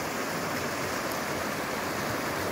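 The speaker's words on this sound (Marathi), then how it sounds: "आणि इकडे एकदम खळखळ खळखळ वाहते," River water rushing and gurgling over rocks along a forest path, a loud continuous broadband flow heard up close without a break.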